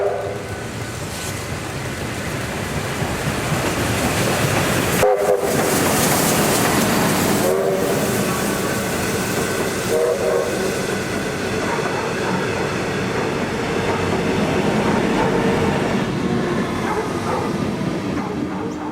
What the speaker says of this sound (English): steam locomotive R707 featuring up the front of the train